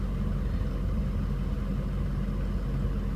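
2006 Ford F350 diesel truck idling after running about an hour, a steady, close, low rumbling clatter that holds constant throughout with no talk.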